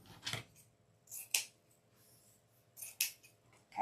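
Scissors snip through evergreen greenery for a spring wreath, giving about five crisp close cuts at irregular intervals in an otherwise quiet room.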